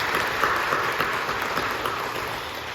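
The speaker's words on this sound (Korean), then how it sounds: "박수로 격려해 주시죠" Sustained applause from a large church congregation, dense, even clapping that holds steady throughout.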